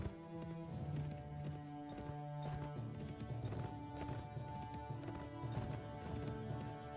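A cattle herd's hooves clatter in steady, overlapping clip-clop beats during a cattle drive in Mount & Blade Floris, with a sustained tonal music bed running underneath.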